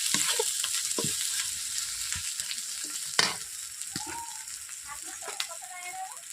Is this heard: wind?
no